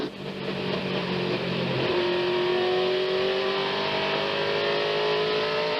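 Stock race cars at the Autolite/Fram 250 roar past, engines droning loudly with a rising whine as one accelerates, a continuous heavy mechanical rumble with no break.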